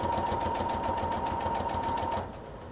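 Sewing machine stitching a seam at a corner, a steady fast mechanical whir with a constant hum running close and loud for about two seconds before it slows and stops.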